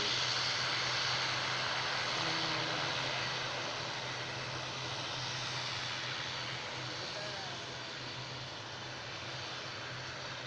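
Fixed-wing airplane engine drone at Dien Bien, a loud steady broadband roar held across the whole stretch, fading slightly toward the end, with faint voices in the background.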